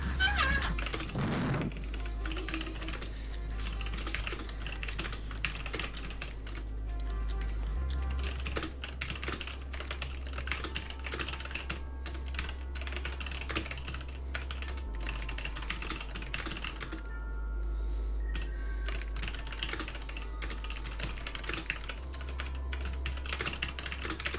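Rapid computer keyboard typing clatters steadily throughout, quick clicks in dense bursts over a low hum.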